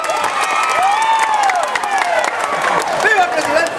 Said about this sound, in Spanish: Y un aplauso más fuerte para el presidente.